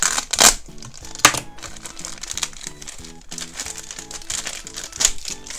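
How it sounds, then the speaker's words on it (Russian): A plastic packet crinkles and crackles in sharp, irregular bursts as a toy pizza from a Paw Patrol surprise dessert is pulled out, with soft tonal sounds underneath. "Давайте вытащим ее из пакетика"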